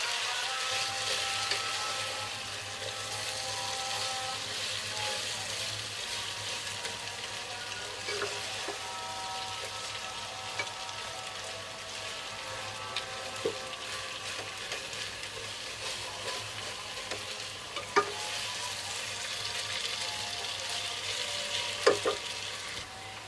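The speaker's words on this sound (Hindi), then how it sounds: "इसी मसाले में 1 से 2 मिनट इसकी बुनाई करेंगे" Vermicelli for a savory potato seviyan is roasted and stirred in a spiced masala in a pan, giving a steady, continuous sizzle with soft scraping and occasional louder spoon knocks, with no talking.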